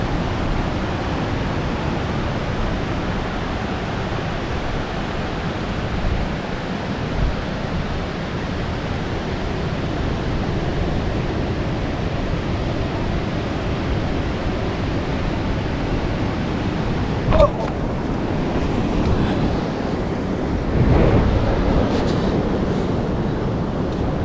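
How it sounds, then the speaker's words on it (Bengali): Sea waves wash onto a beach in Teknaf, Bangladesh, as a constant broad roar of surf heard from nearby, with a few faint knocks and handling noises near the end. "ও আর এই পাশে তো সমুদ্র আছেই,"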